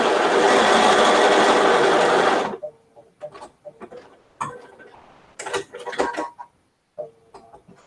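A sewing machine runs loud and steady while stitching a quilt seam, then stops abruptly. Irregular fabric handling and small clicks follow, along with a few bursts of machine movement.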